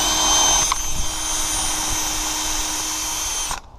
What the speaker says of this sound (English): Then I'll go ahead and pre-drill 6 holes for the screws at that angle.